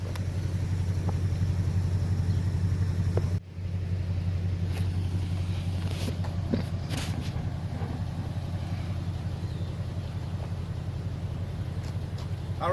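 A Nissan Titan pickup idles with Seafoam added to the engine, a steady low rumble that holds unchanged throughout, briefly dipping once early on, with faint clicks and no talking.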